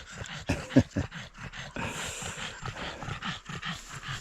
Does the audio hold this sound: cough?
no